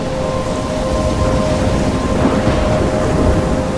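A thunderstorm in the video game Life is Strange, with a dense steady roar of heavy rain and rumbling thunder, loud and continuous, with a faint low tonal hum underneath and no talking.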